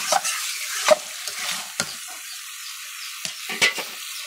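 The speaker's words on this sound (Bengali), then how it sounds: "হালকা জালে জালে এরকম কষে নিয়েছি, বেশি জাল দিইনি।" Mutton sautéed over low heat in a pan: a soft sizzle sits under a series of irregular spatula scrapes and stirring clacks, close and fairly clear.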